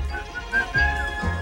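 A whistled tune with sustained, gliding melodic notes carried over a soft instrumental backing, part of a cheerful song-and-dance number at Disneyland's 25th anniversary show.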